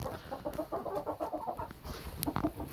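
Hens and a rooster cluck in a backyard coop in the evening, a rapid, close series of pulsing clucks that is fairly loud and steady, with a brief higher squawk near the end.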